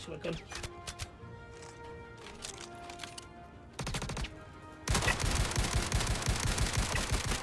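Gunfire during a small-group firefight in Star Citizen FPS combat: a short burst first, then a loud, dense run of rapid shots that fills the final seconds.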